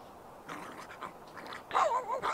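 A dog in The Sims 3 gives out agitated growls, pants and whimpers in short uneven bursts. The noises get louder and more insistent toward the end.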